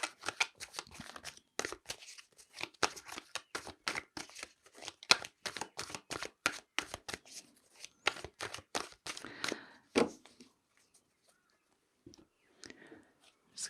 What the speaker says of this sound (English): Just going to shuffle with these cards,